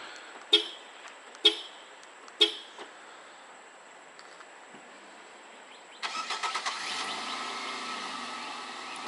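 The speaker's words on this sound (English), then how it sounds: "Okay, the vehicle started up, relocked itself." A 2019 Nissan Rogue Sport started by remote start: three sharp horn chirps a second or so apart, a quiet pause, then the engine cranks and settles into a steady idle, heard from about ten feet away.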